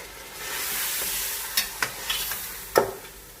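Spices and meat fry for aloo gosht in a pot, giving a steady close sizzle broken by several sharp scraping stirs near the end, with no talking.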